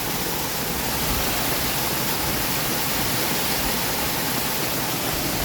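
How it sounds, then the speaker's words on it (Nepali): Heavy rain pouring down at Chaupari, with runoff water flowing below, forms a steady, dense, unbroken rushing hiss at constant loudness throughout. "यस्तो भएर यहाँ पानी झरिरहेको छ"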